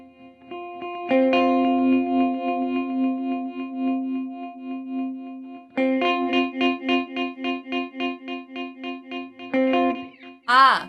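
Guitar notes pass through a Cooper FX Arcades Grains card granular effect with the density knob turned down. Held chords break into a sparse, stuttering train of single grains that pulse and decay, then a final burst of warbling.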